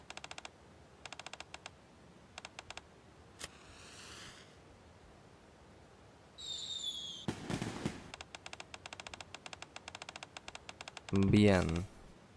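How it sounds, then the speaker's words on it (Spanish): Fireworks in the video game Goddess of Victory: Nikke during a Christmas snowfall minigame, heard as quick crackling bursts and whooshing launches scattered over steady game music, with a louder burst near the end. "vimos ahí los fuegos artificiales"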